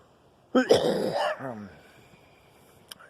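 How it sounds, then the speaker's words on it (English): A single harsh cough burst, close and loud, trailing into a rough throaty rasp, then near silence with a faint click at the end. "Y'all know how much I coughed."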